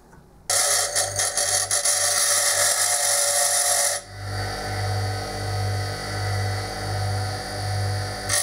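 A power tap cuts threads into steel lubricated with cutting fluid, giving a loud, steady high whine for several seconds that drops to a lower, rhythmically pulsing hum as the tap keeps turning.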